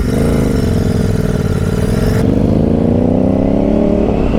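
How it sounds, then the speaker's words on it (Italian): Motorcycles idle and rev loudly at close range as riders pull in to park outside a lakeside bar near Lago di Resia, the engine drone steady throughout with pitch rising slightly. "Adesso parcheggiamo le moto"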